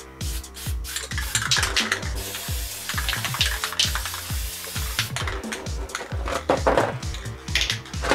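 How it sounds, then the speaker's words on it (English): Black spray paint hisses from an aerosol can onto a large toy Lightning McQueen car, with rapid short bursts and steady hissing passes, close and fairly quiet, mixed with faint clicks and handling noises. "I'm just going to put a big coat of black on first, and I'm going to spray it blue."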